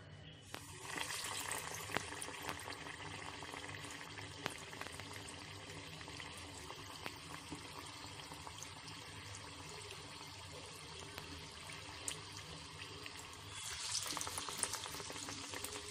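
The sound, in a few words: raw banana bajji frying in hot oil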